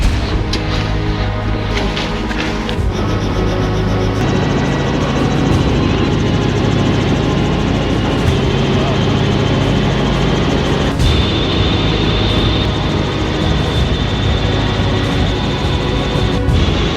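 Helicopter flight in Alaska, a loud continuous engine and rotor drone heard from inside the cabin, steady and unbroken throughout.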